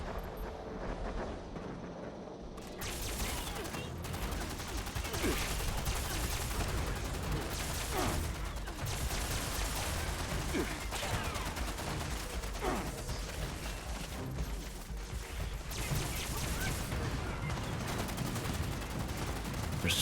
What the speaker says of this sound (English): They're shooting at themselves there through the ceiling there in that building